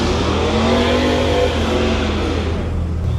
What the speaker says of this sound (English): So we got people doing burnouts and shit.